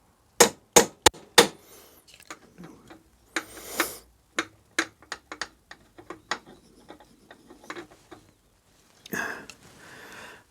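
Hammer tapping on a BSA Bantam B175 motorcycle part resting on a vise: several sharp metallic strikes, spaced at first, then quicker lighter taps, close and loud against quiet.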